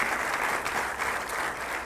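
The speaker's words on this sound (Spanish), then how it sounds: "Dele un aplauso al Rey de Reyes y Señor de Señores" A congregation claps for Jesus at a Spanish-language church service, a steady dense wash of hands with no breaks, moderately close and fairly loud throughout.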